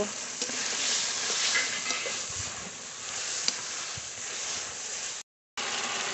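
Ground spices with turmeric sautéed in a little water in a pan for duck curry, a steady dense sizzle throughout, close and continuous, with a brief dropout near the end.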